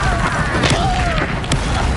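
Confringo blasting spell explosion in Hogwarts Legacy, a loud booming burst with rumbling impacts over continuous game noise, brief and close.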